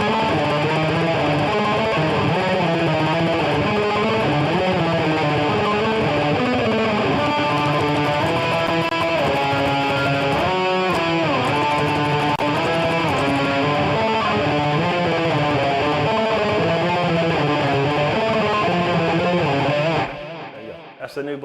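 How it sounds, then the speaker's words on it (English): A dense, distorted electric guitar churns out a fast black metal riff, loud and continuous for about twenty seconds before cutting off abruptly at the end. "I'm gonna make him a new black metal riff."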